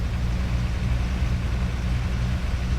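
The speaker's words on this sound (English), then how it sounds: "that is quite loud, this truck" A Scania 143M truck in Euro Truck Simulator 2 drones with a loud, steady low engine rumble, heard from inside the cab with no other sounds.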